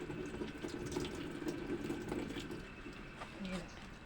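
Tap water runs steadily into a sink for handwashing before a meal, a continuous close splashing stream heard alone for a few seconds with light background noise.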